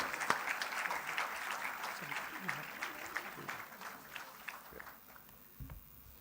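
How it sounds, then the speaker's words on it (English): Audience applause welcoming an honoured guest at a Kanpur memorial event, dense clapping at moderate level that thins and fades toward the end, with some voices mixed in. "with a huge round of applause, let's welcome Sir"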